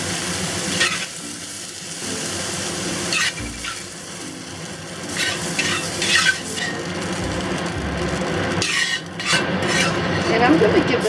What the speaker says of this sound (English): now we can remove it from the pan